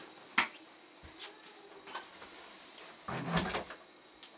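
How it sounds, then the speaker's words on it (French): A household door being shut, heard as a few faint knocks and rattles with a louder thud and scrape near the end, in a quiet room with no talking. "je vais fermer la porte parce que j'entends les petits derrière"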